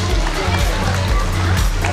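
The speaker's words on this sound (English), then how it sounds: "Let us clap for them." An audience applauds at a school annual day prize-giving at St Xavier Vidyalaya School in Korgao, Pernem, with steady, dense clapping filling the whole stretch as a voice sounds faintly underneath.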